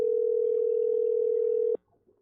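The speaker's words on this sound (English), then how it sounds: "I'm going to make a phone call to Apple through this Bluetooth device." A phone call placed through a Bluetooth device gives a steady, loud single-pitch dial tone that holds for under two seconds and then cuts off abruptly, followed by faint quiet.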